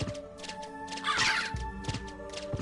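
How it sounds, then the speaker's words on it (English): Black crows caw in the Castlevania: Symphony of the Night video game, harsh raspy calls rising over sustained game music and scattered effects. "These black crows."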